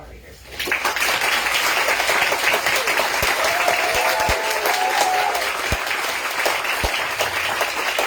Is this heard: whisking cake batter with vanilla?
no